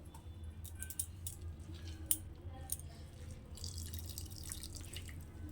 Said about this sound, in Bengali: এইভাবে কত মূলর থেকে প্রচুর জল বেরোয়